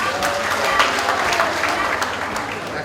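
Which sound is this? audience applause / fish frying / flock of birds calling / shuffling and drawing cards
audience applause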